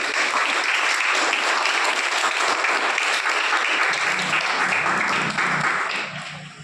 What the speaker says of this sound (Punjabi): ਬੱਚਿਆਂ ਦੀਆਂ ਜ਼ੋਰਦਾਰ ਤਾੜੀਆਂ ਦੇ ਵਿੱਚ ਤੁਹਾਡਾ ਸਵਾਗਤ ਹੈ ਜੀ